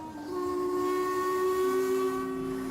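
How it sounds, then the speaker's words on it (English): The whistle of a 90-year-old steam locomotive, the Old Princess, sounds on a Yorkshire steam railway as it climbs an incline: one long, steady, two-toned blast over a faint background hiss, with no talking. "See how smooth this locomotive's running?"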